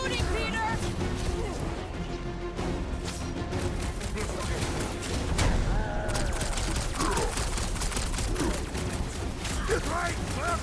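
Rapid bursts of gunfire in the Guardians of the Galaxy video game, dense and continuous amid combat effects and music, with characters speaking over the shooting.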